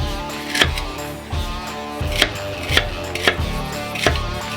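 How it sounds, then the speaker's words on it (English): Celery chopped by hand with a knife on a wooden chopping block, sharp distinct knocks at an uneven, unhurried pace, about six strikes close up over a faint background hum, no talking. "You're just going to see me do it the real way. Love the smell of that celery."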